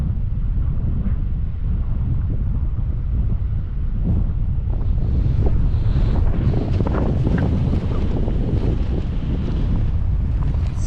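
Strong wind gusts at an arctic canyon campsite, roaring and buffeting against the microphone in a continuous, turbulent rush that swells louder partway through.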